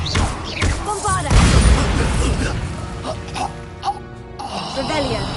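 A Bombarda spell explosion in a video game bursts out as a loud, booming blast with crashing debris and rumbling, layered among other game effects and shouting voices.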